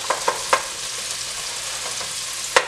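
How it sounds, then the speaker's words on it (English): Diced onion sautéing in a pan for homemade lentil soup gives a steady, close sizzle with a few sharp scraping stirs near the start and another near the end. Nobody talks. "I'm just gonna saute this for a little bit"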